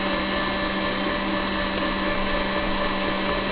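A kitchen machine churns cream into butter as the buttermilk separates, giving a steady, loud motorized whir with a constant hum and no pauses, close by.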